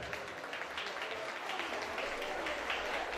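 Applause from the bride's family rings out at a Turkish engagement party, a steady, fairly faint patter of many hands clapping together for several seconds.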